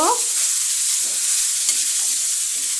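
Grated red desi carrots for halwa roast in ghee, stirred with a spoon in soft, repeated scraping strokes over a loud, even sizzle, heard close with no talk.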